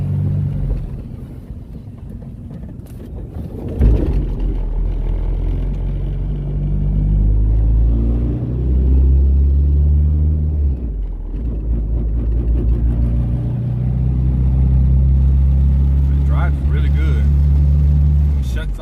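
A turbocharged H22-engined 1992 Honda Accord CB7 drives and accelerates, its engine giving a deep, close rumble that swells as it pulls away, with someone talking over it for most of the stretch.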